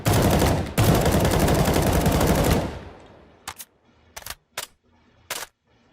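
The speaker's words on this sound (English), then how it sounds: "we have the M4A4 that I've recreated from Counter-Strike Go, Counter-Strike Global Offensive. It even has the correct sounds." Rapid M4A4 rifle fire recreated from Counter-Strike: Global Offensive in a shooter game, a dense loud burst of automatic shots with a short gap, fading out, then a few sharp mechanical clicks and clacks.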